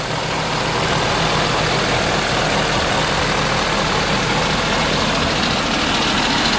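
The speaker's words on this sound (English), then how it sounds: "obviously this is a diesel engine" A 2013 Ford F550 rollback truck's diesel engine idles close by with a steady, loud, low rumble and constant clatter throughout, no change in pace.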